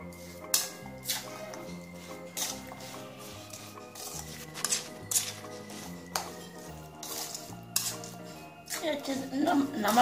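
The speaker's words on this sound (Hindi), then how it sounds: "अच्छे से मिक्स करके हम इसमें लहसुन मिला देंगे।" Metal spoon stirring grated raw garlic into pickle in a bowl, a series of sharp clinks and scrapes against the bowl in an irregular rhythm, close and moderately loud, with no voices.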